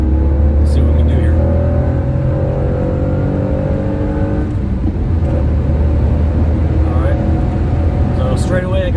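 Acura CL Type S with a six-speed manual accelerating hard on a race track, engine droning loud and steady from inside the cabin as revs climb, dip with a shift, then climb again.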